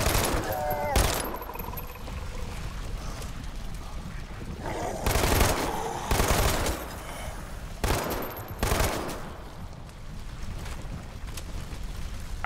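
Bursts of rapid fire from a machine pistol in the video game Dead Island 2, loud crackling volleys broken by a few heavier blasts, with ambient game noise between the bursts.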